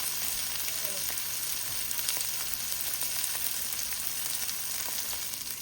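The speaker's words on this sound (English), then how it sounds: "But it's just going to fry it up a little, and then we're going to add the okra." Pre-cooked shrimp frying in a pan, a steady soft sizzle with faint crackles and pops throughout, fairly quiet and heard on its own.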